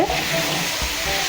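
Chunks of taro are fried with spices in a pan, giving a close, steady sizzle with a brief scraping stir.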